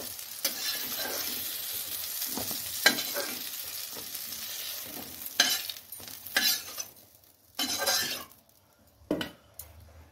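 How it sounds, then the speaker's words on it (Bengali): Boiled potatoes fry in a pan for a curry, a steady oily sizzle with intermittent scrapes and clinks of a spatula stirring, close up and without talk. "ঝোলে দেওয়ার জন্য আলু ফ্রাই করে নেব।"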